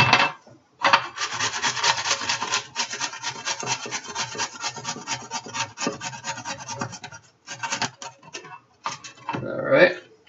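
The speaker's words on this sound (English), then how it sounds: "We're going to go ahead and use our grater" Cucumber scraped against a hand grater in a small kitchen, giving a steady, close rasping rub in quick back-and-forth strokes with a few short pauses.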